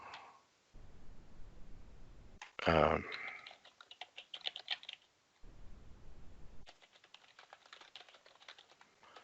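Keys on a computer keyboard are tapped in quick bursts of soft clicks, with short pauses between runs of typing.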